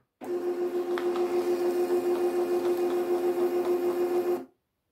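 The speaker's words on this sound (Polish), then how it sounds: "wydrukujemy sobie teraz stronę testową" A Zenwire TD-401 label printer runs a test page with a steady, loud mechanical whir and a fine rapid pulsing, starting and stopping abruptly over about four seconds.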